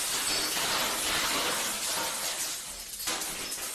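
Loud shattering glass mixed with a long cascade of marbles falling, in a video game, a continuous dense clatter that thins briefly near the end and then picks back up, with no talking.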